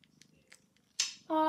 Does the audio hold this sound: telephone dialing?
no